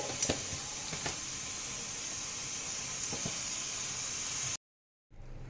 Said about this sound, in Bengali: ওই একই তেলে আমি দিয়ে দেব চিনি।